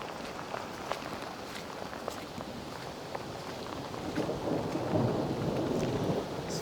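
Floodwater running past outside a camp after a night of heavy rain gives a steady wash of noise, with scattered drips and taps and a swell in the rushing sound toward the end.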